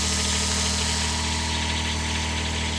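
The diesel engine of a Niftylift TD120T access platform idles steadily, a continuous close rumble with a constant mechanical drone and no speech.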